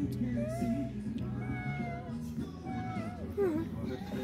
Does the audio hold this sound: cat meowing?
yes